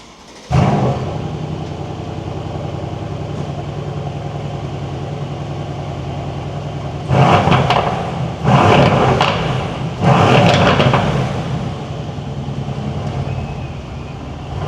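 A Mercedes C43 AMG converted to a C63S V8 with rear-wheel drive rumbles steadily while driving, then surges in several loud revving bursts of acceleration toward the end.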